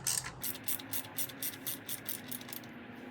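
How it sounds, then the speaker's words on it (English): Torx 25 bolts being loosened on a 2021 Harley Heritage Softail motorcycle, a close, quick run of about a dozen rhythmic ratchet clicks with light metallic rattle, no talking. "you take off your little bolts with your Torx 25"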